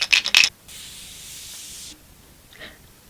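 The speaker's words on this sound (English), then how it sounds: "This thing makes more noise than I thought it would." A makeup setting spray gives a few quick sharp bursts, followed by one longer steady mist spray lasting over a second, then a faint click, close and clear.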